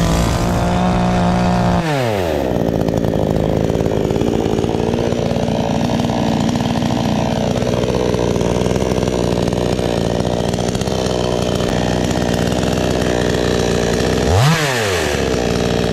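NCH H590 chainsaw running loud and close, revved up at the start, held at a steady whine, then revved again near the end, no talking.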